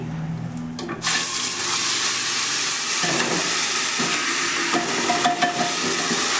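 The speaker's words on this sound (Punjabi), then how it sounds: "ਤੇ ਇਹਨੂੰ ਹੁਣ ਆਪਾਂ ਚੰਗੀ ਤਰ੍ਹਾਂ ਦੇ ਨਾਲ ਭੁੰਨ ਲਵਾਂਗੇ" Spice paste roasts in a pan for a potato curry, a loud close sizzle that flares up after a second and keeps hissing steadily, with stirring scrapes throughout and no speech.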